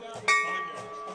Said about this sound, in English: Looks like we got a bell here.